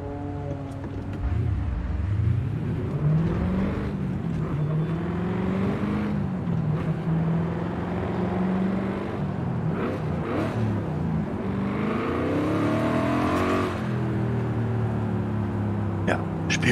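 A 2018 Chevy Camaro drives in Forza Horizon 5, its engine note rising and falling steadily through gear changes, loud and close throughout, with a voice talking over it at times.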